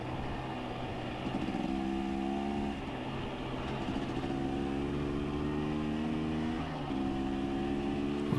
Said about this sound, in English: Perfect opportunity to open the throttle up a little and I feel the bike move and weave across the road.